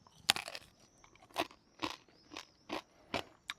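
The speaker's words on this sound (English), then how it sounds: "Just going to try a little bit of that crackling first" Crisp pork crackling bitten and chewed close up, a loud crunch followed by six sharp crunching chews at a steady rhythm, each one brittle and crackly with quiet gaps between.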